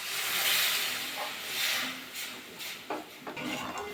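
Water poured from a measuring bowl into a pan of flour mixture on the stove, making a broad rushing hiss that swells twice and then eases into softer stirring and scraping sounds, close by.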